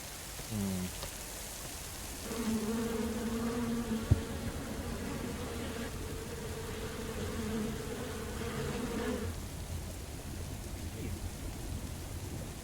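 Bees buzz in the horror video game Fears to Fathom, a steady droning hum that holds for several seconds over a faint patter like rain, then fades back to the background hiss.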